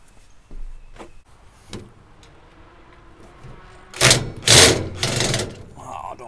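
Screws are backed out of a Weber Genesis grill panel with a driver, with faint scraping and a few clicks at first, then loud, close bursts of grinding metal as the tool works the screw heads.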